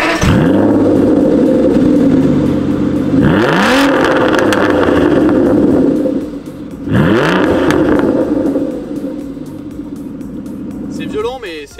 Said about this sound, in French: Et le V12 se réveille.